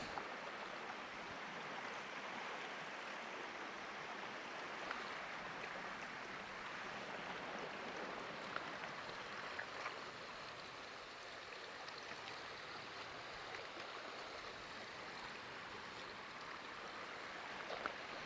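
The Radovna river flows steadily as a broadband rush of water over stones in a Slovenian valley, continuous and even throughout, with no voices.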